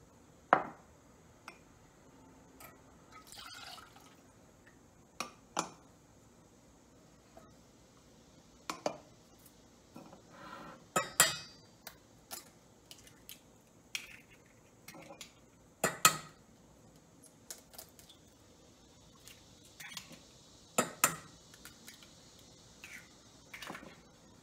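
A whisk or spoon clinks against a bowl while crepe batter of butter, milk, eggs, flour and salt is mixed, giving sparse, irregular light taps and clinks at moderate distance, with faint birdsong in the background.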